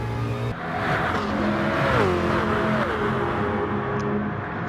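Gr.1 race cars roaring together in a Gran Turismo Sport online sprint race, engines loud and continuous with a rising and falling pitch as the cars accelerate and shift, with no voices over them.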